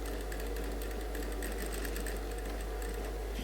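A sewing machine runs a steady, continuous stitch along a suit seam, a close, even mechanical whirr with no pauses.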